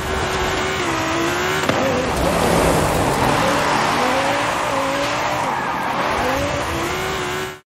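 Race car in the Forza Horizon 5 video game driving down toward a beach in Mexico, engine droning loud and steady with rising and falling revs and tire squeal throughout.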